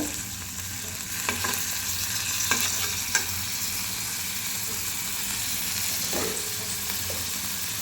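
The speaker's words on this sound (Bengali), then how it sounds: "এগুলোকে ভালো করে ভাজা ভাজা করব।" Chicken liver frying in a pan as it is stirred, a constant close sizzle broken by several brief scraping strokes, with nobody speaking.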